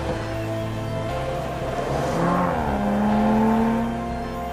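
Audi RS 5 Coupé in Sonoma Green metallic driven hard, engine note climbing steadily under acceleration with a rising, sustained roar heard from inside, no voices.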